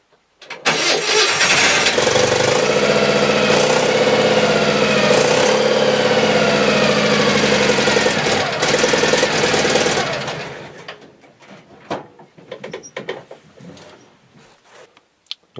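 A car engine cranks, catches and settles into a loud, steady idle for several seconds, then fades away to quieter background noises.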